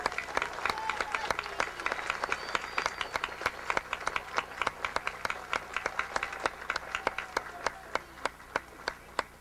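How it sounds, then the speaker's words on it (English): A school audience gives a warm, sustained round of applause for graduating eighth-grade students, steady clapping with sharp individual claps standing out near the end as it gradually tapers. "Please join me in a warm round of applause for these exceptional students."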